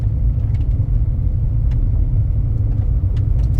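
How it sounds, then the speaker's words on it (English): A 2013 Buick Encore rolls along a gravel road from inside the cabin, a steady low rumble of road and tire noise with faint scattered crunchy ticks over it and no talking. "I'm driving down gravel"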